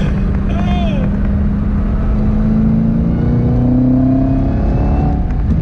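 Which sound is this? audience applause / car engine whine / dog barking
car engine whine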